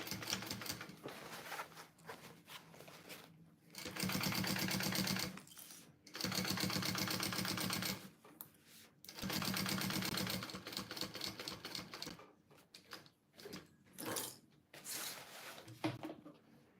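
A sewing machine stitches a double row between the pockets of a tote bag, running in several short, fairly close bursts separated by quieter handling sounds.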